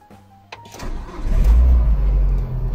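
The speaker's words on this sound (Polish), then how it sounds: "Zobaczymy teraz, jak nam tutaj autko odpali." A Citroën Xsara Picasso engine cranking and starting after an ignition coil replacement, a few short clicks followed by the engine catching and settling into a loud, steady idle close by.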